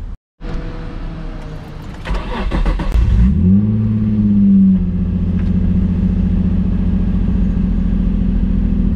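A Nissan 350Z engine cranks and catches, revs up briefly, then settles into a steady, loud idle.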